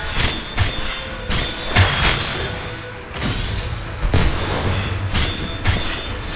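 A train in the video game Dragon Raja, with loud rhythmic rumbling, clattering wheel bursts and occasional metallic squeals repeating every second or so.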